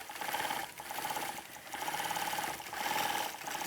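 A sewing machine stitches a quilt seam about an eighth of an inch from the seam line, giving a steady, fast mechanical whirr with rhythmic clatter that runs continuously at moderate level with brief slowdowns.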